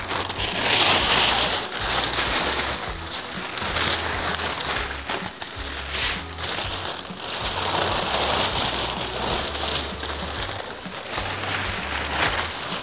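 Thick plastic wrapping crinkles and rustles continuously as a new black motorcycle is unwrapped, close and fairly loud, with a low steady hum underneath.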